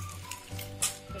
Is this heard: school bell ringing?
no